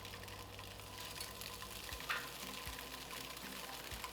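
Seasoned tofu fries in a hot pan over medium-high heat, a quiet steady sizzle with faint crackles and a few soft utensil touches, no voices.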